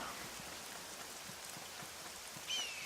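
Steady rain falling in the Neverwinter Nights video game, a soft continuous patter of drops with a faint brief rise near the end.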